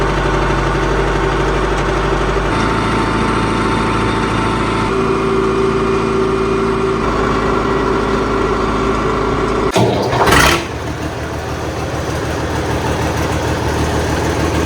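A Caterpillar 966 wheel loader's engine runs steadily in cold weather, a loud, close, continuous low drone, then a brief surge and clunk before settling back into a slightly different, even idle.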